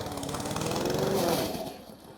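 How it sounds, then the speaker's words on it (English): A lawn scarifier runs over a lumpy buffalo, kikuyu or TifTuf lawn, a steady close motor drone with a rapid chattering pulse that holds loud throughout and eases slightly near the end. "we'll get the scarifier over it now"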